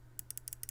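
Side buttons on a Finalmouse Starlight-12 Phantom mouse being pressed, about seven quick crisp clicks in rapid succession, close up and quiet with no voice.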